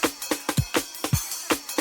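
Sped-up breakbeat pitched up six semitones in classic drum and bass style, a fast, tight loop of punchy kicks and crisp snare hits repeating in a steady rhythm, loud and alone.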